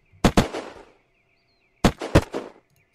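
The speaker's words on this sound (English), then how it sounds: "Is that you shooting?" Gunfire in the video game Unturned, two quick clusters of sharp cracking shots separated by a pause, each burst two or three rapid reports, fairly close and loud with nobody talking.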